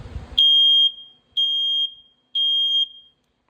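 Three loud, shrill smoke detector test beeps, each about half a second long and evenly spaced, sound after a brief rustle of handling at the unit as its test button is pressed; no voices.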